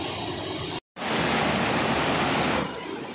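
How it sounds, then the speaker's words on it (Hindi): A waterfall on the Ganga at Rishikesh rushes loudly as a dense, steady roar of water, cut by a brief dropout of silence near the start and then continuing strongly, with no voices. "काफ़ी तेज़ आवाज़ के साथ ये झरना प्रवाहित हो रहा है"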